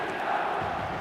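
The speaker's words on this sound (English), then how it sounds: "it's applause all round us here" Stadium crowd applause and steady roar in the football video game eFootball 2026 during a Barcelona match, a dense, even wash of noise that holds at constant loudness throughout.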